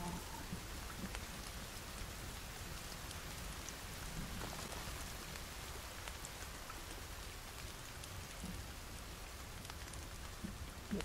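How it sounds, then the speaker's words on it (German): Steady rain patters and hisses in The Forest video game as a thunderstorm rolls in, a dense even wash of drops with soft rumbles of thunder underneath and no talking. "jetzt fängt aber zu regnen"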